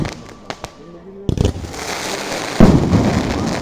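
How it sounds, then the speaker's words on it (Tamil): Loud firecracker blasts at a village festival fireworks display: a few sharp pops, then a booming burst followed by crackling rumble, with distant voices in the background. "இவர் போட்ட வெடி தாங்க பயங்கரமான வெடி"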